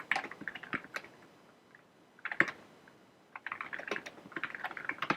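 Someone types on a computer keyboard and presses the tab key. Quick clicking bursts come close and clear, with a short lull in the middle before a denser run of keystrokes.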